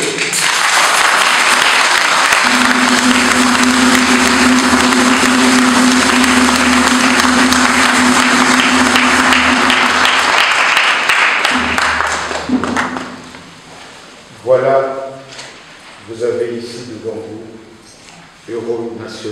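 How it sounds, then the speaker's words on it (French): Sustained applause from a large gathering at a funeral ceremony, loud and steady for about twelve seconds before fading, after which someone speaks over a microphone. "Rendons-lui un hommage vraiment mérité. Applaudissons-le."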